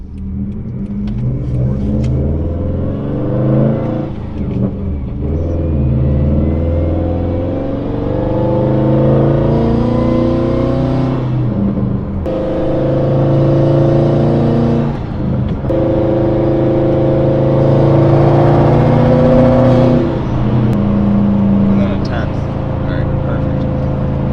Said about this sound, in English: The lower RPMs when you're like bogging on it.